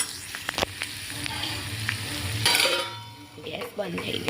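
Capsicum and carrot sambharo sizzling in a pan while being stirred, with sharp clinks and scrapes of the utensil against metal, close up and fairly loud.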